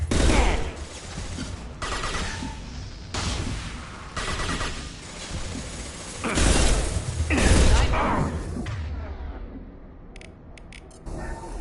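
Sustained gunfire in Mass Effect 2, dense bursts of automatic shots and heavy impacts rolling loudly throughout, easing toward the end into a few sharp clicks.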